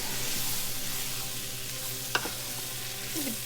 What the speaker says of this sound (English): The meat is starting to brown a little bit.